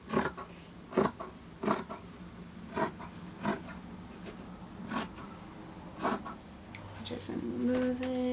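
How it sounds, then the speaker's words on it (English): Scissors cut through folded dress fabric, giving about eight soft, crisp snips spaced roughly evenly, close and moderately quiet, with a faint tone near the end. "I'm just going to cut it on the fold, the front portion of the dress"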